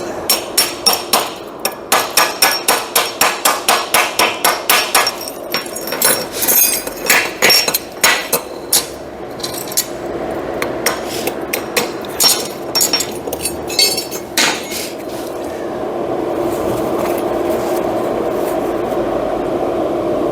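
A hammer chips slag off an arc weld in a rapid series of sharp, close metallic taps with glassy clinks, then keeps tapping less regularly over a steady background hiss.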